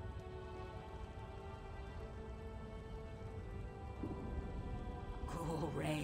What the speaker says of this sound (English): Cool rain on my scales.